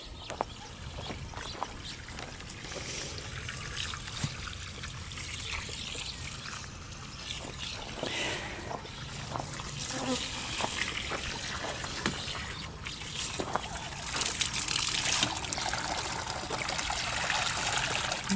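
Water from a garden hose trickles and splashes steadily into a bird fountain outdoors, a continuous close dribbling with faint bird sounds around it.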